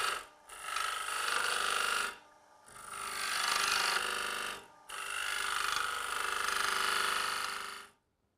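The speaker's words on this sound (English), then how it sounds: "Now with the detail point cutter, we can produce our dovetailed foot to hold on to the jaws of the chuck." Carbide detail point cutter shaping a dovetailed foot on a wooden bowl spinning on a lathe, giving three sustained raspy cutting passes separated by brief pauses, with no talking.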